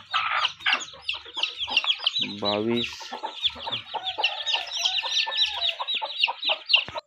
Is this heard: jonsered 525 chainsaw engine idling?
no